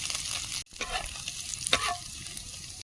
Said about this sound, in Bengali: কড়াই তেল দিয়ে দেব একটা শুকনো লঙ্কা কালো জিরে থেতো করা রসুন